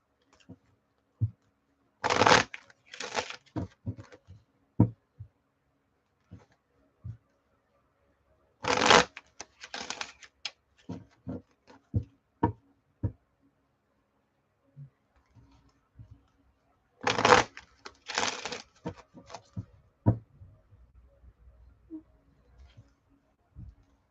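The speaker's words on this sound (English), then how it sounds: "I guess I'll do my pre-shuffle while I wait." Playing cards are shuffled three times in crisp riffling bursts, each followed by scattered taps and clicks, close and fairly quiet with pauses of near silence between.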